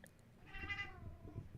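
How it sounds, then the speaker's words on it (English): A cat indoors gives a single clear meow that rises and then trails off, heard fairly near and on its own in a quiet room. "I heard a cat."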